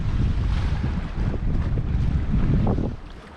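A sailboat under sail on the Potomac River, with a continuous heavy rush of wind buffeting the microphone and water washing along the hull, fairly loud and steady before easing off near the end.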